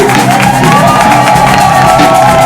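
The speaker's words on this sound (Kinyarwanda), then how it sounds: "mwanyemerera tugavuza impundu" A church congregation cheers and ululates in a continuous wash of high trilling voices and shouts, loud and sustained throughout without a break.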